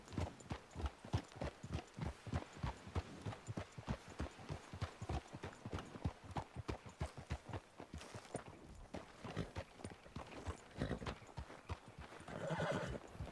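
Horses' hooves clip-clopping at a steady walk during an endurance race, a continuous rhythmic run of close hoof strikes with a whinny near the end.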